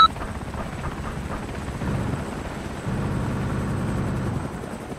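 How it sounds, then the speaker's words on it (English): Helicopter in the military game Arma 2, a steady low rotor rumble that swells midway and holds, heard continuously at moderate loudness with no talk over it. "Chopper, 7 o'clock, far."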